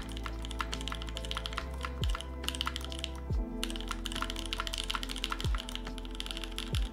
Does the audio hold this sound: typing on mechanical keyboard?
yes